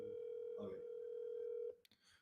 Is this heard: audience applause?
no